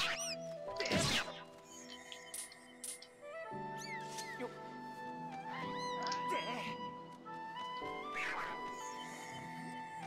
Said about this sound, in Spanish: Estos gatos, o lo que sean, dan mucho miedo por la noche.